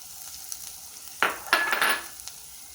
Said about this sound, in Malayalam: പൊടിയുടെ പച്ച മണം മാറുമ്പോൾ അതിലേക്ക് ഇറച്ചി ചേർക്കുക.